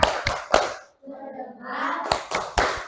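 Primary school class doing a rhythmic concentration clap, sharp group hand claps in a quick pattern, a pause filled with children chanting together, then another burst of claps.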